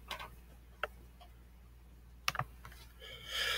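Keys on a computer keyboard are struck during a Nitro Type typing race, heard as a few faint scattered clicks and taps over a low steady hum, with a soft rushing noise at the end.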